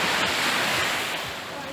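Sea waves at Odesa on a late autumn afternoon wash in as a broad, steady rush of surf with some wind noise, close and fairly loud for the whole moment.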